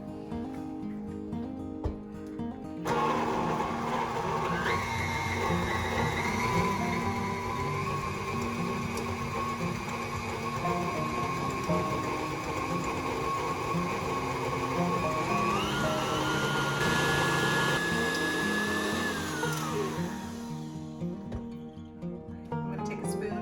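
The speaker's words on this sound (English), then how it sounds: "And now we're going to cream it together." Electric mixer creaming butter, Philadelphia cream cheese and vanilla for a pumpkin spice cookie filling, a loud steady whir that runs about twenty seconds with rising and falling pitch before stopping.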